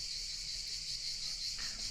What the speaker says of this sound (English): I'm sure you could hear the crickets